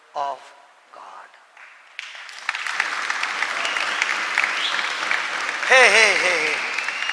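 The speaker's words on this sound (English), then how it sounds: "We all loved your clapping." An audience claps at a church gathering, steady loud applause building and filling the space, with a voice calling out briefly at the start and more talk rising over the clapping near the end.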